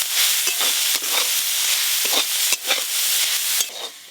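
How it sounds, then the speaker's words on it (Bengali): Water spinach fries with poppy seeds in mustard oil, a steady close sizzle broken by repeated scraping stirs of the spatula, with no talking. "কলমি শাক ভাজা তো হয়ে গেল"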